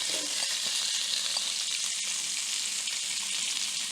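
Onion sautés in a hot pan just used for searing beef, a loud, even, continuous sizzle that stays close and unbroken throughout with no one talking.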